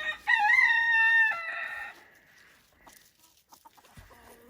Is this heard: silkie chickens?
yes